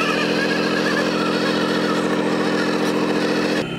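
An RC truck's electric motor whines steadily and loudly as the truck churns through sticky mud, holding one continuous strained pitch before cutting off abruptly near the end.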